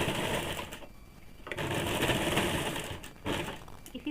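Sewing machine stitching the sleeve of a woollen baby frock, a fast steady mechanical whir running close and loud, with a brief slowdown in the middle.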